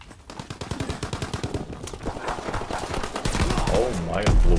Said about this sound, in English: Alright, we're gonna try the machine pistol.